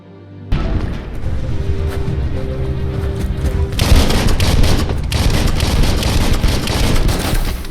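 Heavy, continuous gunfire rages in the video game Biomutant, a dense barrage of booming shots and bursts that starts abruptly and stays loud throughout, with no speech.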